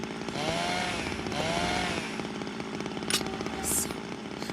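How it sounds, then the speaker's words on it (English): A chainsaw revs loudly and steadily in a chase scene from the video game Zero Time Dilemma, with its engine droning throughout and a couple of sharp, high bursts near the end. "she quickly sets the blame on Carlos, leading to an amusing chainsaw chase"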